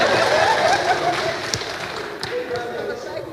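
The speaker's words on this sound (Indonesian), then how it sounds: "Tepuk tangan dulu." Scattered clapping from a church congregation rises loud and dense at the start, then thins and fades, with a few murmuring voices and chuckles mixed in.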